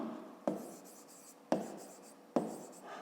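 Pen or pencil writes out a fifth-grade maths exercise on paper, three distinct scratchy strokes at regular intervals, each starting sharply and trailing off, close and quiet with no voice.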